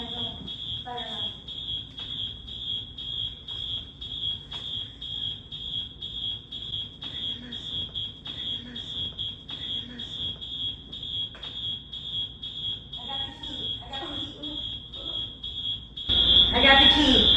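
Smoke-alarm style fire alarm shrilling in a steady high-pitched tone throughout, loud and continuous, with people talking and moving around beneath it and a louder burst of noise near the end.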